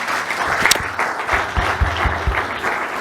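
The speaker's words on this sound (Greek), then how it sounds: "Θέλω να δώσουμε ένα πολύ μεγάλο χειροκρότημα στον Θοδωρή, τον Τζόρτζη." An audience at a live Greek business event interview claps for the guests, with a short, fairly close burst of crowd applause and a few low thumps mixed in.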